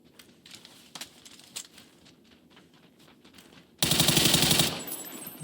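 Gunfire in the battle royale game PUBG, starting with sparse distant pops and clicks, then a loud close burst of rapid automatic fire lasting about a second before trailing off.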